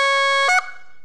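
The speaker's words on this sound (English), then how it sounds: "Now we'll blow into the call, we'll put our finger over the hole, snap it off sharply by stopping our airflow" A single sharp honk blown on a goose flute call: a bright, reedy tone held for about half a second, then cut off abruptly by stopping the air, leaving a brief fading tail.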